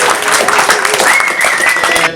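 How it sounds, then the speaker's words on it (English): Audience applause at a tribute celebrating a poet's life, a dense wash of clapping filling a venue for about two seconds, steady and fairly loud, with faint voices and a brief cheer-like tone mixed in. "Can I get a round of applause for Joe and the entire venue, please?"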